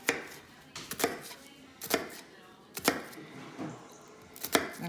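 A kitchen knife chops through an onion on a cutting board, with about six crisp, separate chops spaced roughly a second apart, close and clear.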